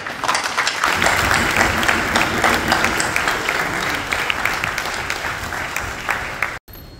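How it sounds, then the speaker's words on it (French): Loud, sustained applause and cheering from an assembly greeting senators at a Congolese session, dense clapping filling several seconds before an abrupt cut. "lever le bras pour recevoir les acclamations"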